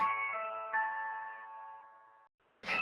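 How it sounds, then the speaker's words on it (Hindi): A melodic electronic ringtone plays a few sustained tones, then cuts off, followed by a brief burst of sound at the end. "पायल का ही फोन है।"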